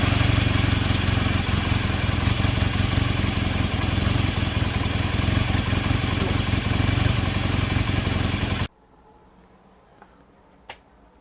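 A warmed-up motorcycle engine runs loud and steady at close range for about eight seconds, then cuts off abruptly, leaving near silence with a faint click.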